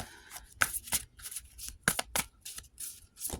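Tarot cards are shuffled close by in quick, crisp riffling bursts with short pauses between them, quiet and without speech.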